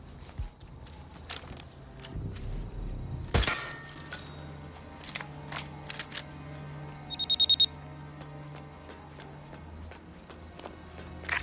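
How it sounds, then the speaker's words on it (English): A high electronic alarm tone rings in short repeated pulses at a radio tower in the Hitman video game, heard amid footsteps, clatter and other game sounds, including a loud crash earlier. "Someone triggered the alarm in the radio tower."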